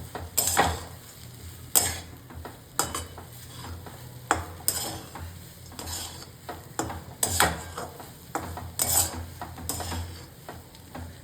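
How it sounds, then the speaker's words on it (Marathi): Peanuts stirred and mixed in a pan for green pea chutney, with repeated sharp scrapes and clinks of a spoon against the metal and a light sizzle between strokes, close and alone. "हे शेंगदाणे पण तुम्हाला चांगल्या प्रकारे मिक्स करून घ्यायचे"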